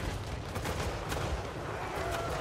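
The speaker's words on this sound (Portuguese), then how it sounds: "saraivada de granada ali" Rapid volley of grenade explosions and gunfire from a Total War: Warhammer 3 battle, a dense continuous roar of overlapping blasts and crackling shots with no pauses.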